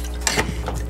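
Cocktail of lemon juice and simple syrup poured into a shaker tin full of ice: a short, close clinking and splashing burst of liquid and ice against metal, lasting under a second.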